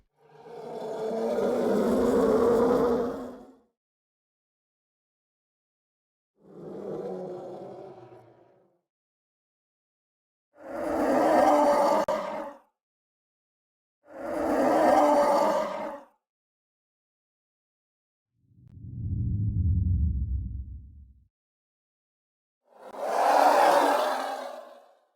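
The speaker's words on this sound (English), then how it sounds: "So I'll go through and play you each roar one by one." Six separate creature roars for Star Wars sound design play one by one, each about two seconds long with silence between them. They are loud, growling and breathy, and one is deeper and lower than the rest.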